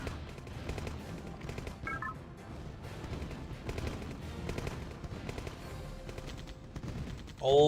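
Medium tanks and rocket soldiers trading fire in a Command & Conquer: Tiberian Dawn match, a busy patter of small shots and blasts at moderate distance with a few electronic beeps and a louder burst at the end.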